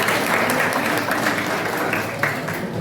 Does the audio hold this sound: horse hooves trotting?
no